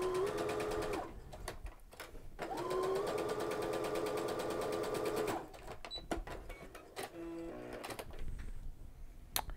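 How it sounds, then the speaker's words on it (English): Sewing machine fitted with a roller foot and ballpoint needle stitching stretchy crushed velvet, a close steady mechanical whir in two long running bursts separated by short pauses, followed by softer clicks and handling sounds. "Nice and even stitches and so easy to sew."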